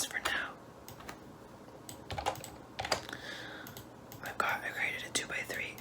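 Computer keyboard typing while coding a matrix multiplication program in Java, close and crisp, in uneven bursts of keystrokes with short pauses and a few louder clacks, accompanied by soft whispering.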